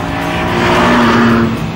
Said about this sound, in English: The 2-litre VTEC engine in this is astonishing.